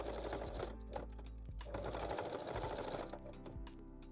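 A sewing machine runs steadily, stitching a lingerie seam allowance and strap loops while converting a bra into a bodysuit, its motor hum and rapid needle clatter continuous and close throughout with no talking.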